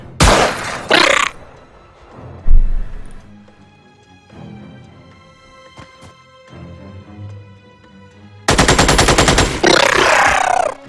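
Sniper fire in the strategy game Xenonauts: loud, sharp blasts with long ringing tails, a burst near the start, a single crack mid-way and a heavy roar late, separated by quieter tonal game ambience.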